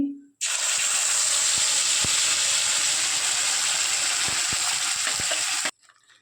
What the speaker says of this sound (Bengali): আমি তেজপাতা দিয়ে দিচ্ছি তেলের মধ্যে, আর গোটা গরম মশলা দিয়ে দিচ্ছি